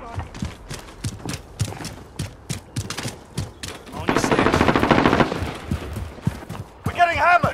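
Rapid machine gun bursts crackle through a Call of Duty Modern Warfare firefight, sharp repeated shots in quick strings with a denser sustained volley midway, with shouted soldier voices over the gunfire.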